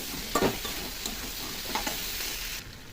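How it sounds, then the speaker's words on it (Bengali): Spices, chilli and cumin powder with ginger paste sauté in a pan, a steady close sizzle broken by a few spatula scrapes and stirring strokes, with no voices. "কিছুক্ষণ কষিয়ে নেব"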